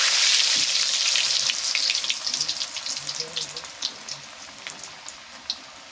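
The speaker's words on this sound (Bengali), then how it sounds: "বড়া ভাজা শেষ হলে আলুগুলো ভেজে নেই।" Potatoes fry in a pan of hot oil, a bright sizzle that starts strong and thins into scattered crackles and pops.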